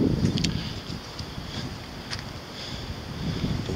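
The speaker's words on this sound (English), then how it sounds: "it is very windy tonight, so I hope the audio is okay" Gusty wind at night buffets the microphone with low rumbling surges, rising and easing over a few seconds, with faint hiss above and no voices.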